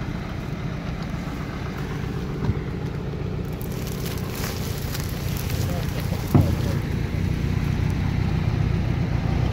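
A ZAZ-968M car pulls away slowly on a rutted track with a low, continuous engine rumble, heavy wind buffeting the microphone and a few voices talking over it.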